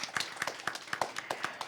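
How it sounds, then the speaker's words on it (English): A short burst of applause at a debate, with sharp, evenly spaced claps from a small group, close and fairly loud. "A round of applause for her as well."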